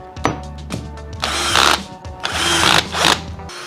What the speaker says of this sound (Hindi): अब इस होल को भी कंप्लीट करते हैं।